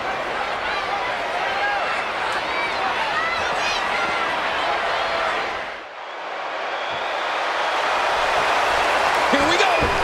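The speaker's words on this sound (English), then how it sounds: "Listen to this crowd." Crowd cheering in the WWE 2K Showcase wrestling game: a loud, continuous arena roar fills the whole stretch, dipping briefly in the middle before surging back. Commentators talk over it.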